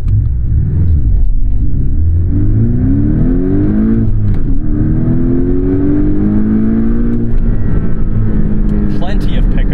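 A Porsche 718 Cayman GTS accelerating hard, its engine note climbing steadily through the revs with a gearshift dip midway and a continuous loud drone underneath, heard from inside the car.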